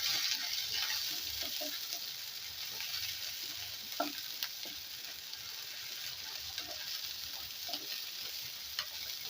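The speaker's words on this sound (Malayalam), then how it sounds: "ചെറുതായിട്ടൊന്ന് വാടി വരുന്നവരെ വഴറ്റി കൊടുക്കുക" Shallots and onion sautéing in a pan for a spiced buttermilk curry, heard as a dense, even sizzle with occasional faint spoon taps, near and steady throughout with no voices.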